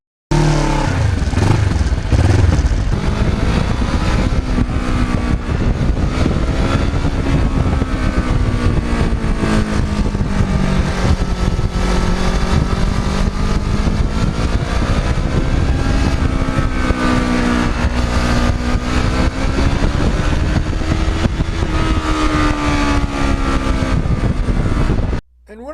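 A restored Kawasaki Ninja motorcycle in black and gold custom paint rides the open road, its engine a loud, steady roar that rises and falls in pitch through the whole stretch with no talking.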